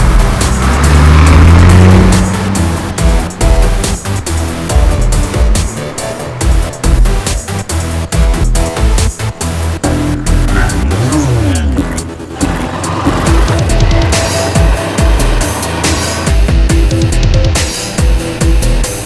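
A motorbike roars past loudly in a street scene of a Malayalam romantic film, its engine rising and falling as it passes, with revving and a brief tire squeal, no talking.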